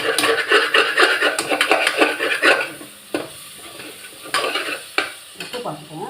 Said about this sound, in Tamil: அதையும் போட்டு நல்லா பிரட்டிக்கலாம்.